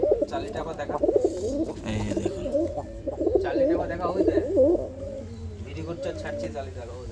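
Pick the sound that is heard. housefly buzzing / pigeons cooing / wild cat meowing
pigeons cooing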